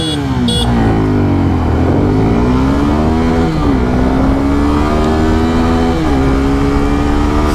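Suzuki Gixxer 250 motorcycle accelerating hard from a standstill in first gear during a 0-60 acceleration test, loud close engine note rising in pitch, with gear shifts at around two, four and six seconds.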